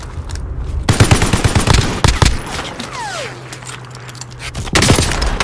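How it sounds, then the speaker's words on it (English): Loud, close automatic gunfire in the Warzone battle royale: rapid bursts of shots in quick succession, a pause filled with a hum and a falling whine, then another burst at the end. "We're taking fire."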